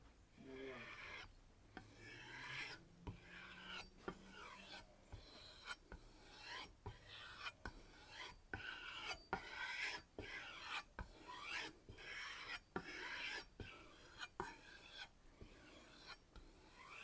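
A knife is sharpened on a Tormek sharpener, heard as repeated close, quiet rasping strokes in a steady rhythm, about twenty passes one after another.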